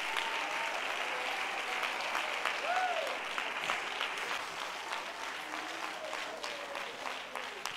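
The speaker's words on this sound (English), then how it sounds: "Clap your hands and praise him for a few seconds." A church congregation at an apostolic conference claps hands together in steady, dense applause for several seconds. The sound is fairly soft and distant, with voices mixed in.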